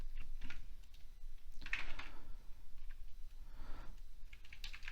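Quiet, close computer keyboard typing: soft, irregular clusters of key taps with brief pauses between bursts, set against a low background hum.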